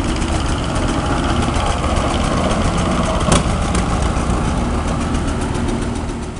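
Tractors in a mixed parade of new and antique machines rumble past in a loud, continuous engine drone at close range with a brief louder burst midway, and no voices.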